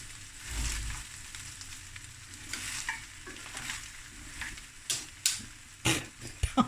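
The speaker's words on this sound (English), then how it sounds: "Fry a mussel." Mussels fry in a pot for seafood rice, a steady soft sizzle with scraping stirs and a few sharp clatters and pops toward the end, no voices.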